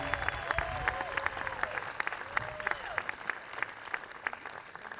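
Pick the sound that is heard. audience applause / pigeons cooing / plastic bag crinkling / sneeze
audience applause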